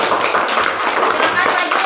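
A classroom group claps for the second team after its presentation, producing close, dense, lively clapping throughout with no talk over it.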